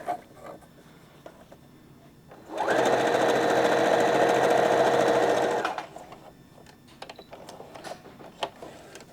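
Sewing machine running a steady, loud, whirring burst of about three seconds while reverse stitching a ribbon skirt, framed by quieter handling sounds before and after.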